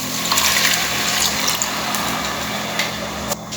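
Water poured into a cooking pot of onion and masala for Goan pork sorpotel, a steady broadband gushing pour running close and fairly loud for several seconds with small splashes.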